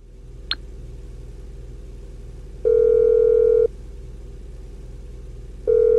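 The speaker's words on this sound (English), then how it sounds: "as soon as he answers the phone" Ringback tones from a phone call to Lester in GTA Online, each about a second long with a pause between them, over a low in-game engine rumble. Two rings are heard.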